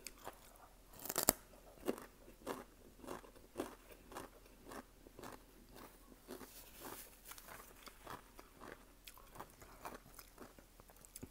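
Crunchy chewing and biting while eating with rice noodles, a steady run of close, sharp crunches repeating about twice per second, alone without talk.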